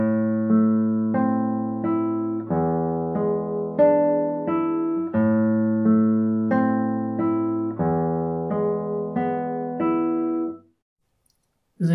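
A classical guitar plays a fast Allegro arpeggio passage by Giuliani, notes ringing and overlapping in a steady rhythm before fading into silence.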